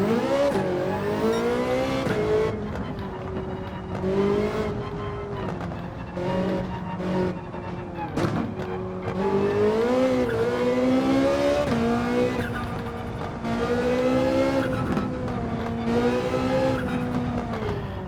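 A Ferrari 458 Italia races at full throttle in a video game, its engine howling loud and continuous, pitch climbing through gears with brief dips at shifts, alone with no talking.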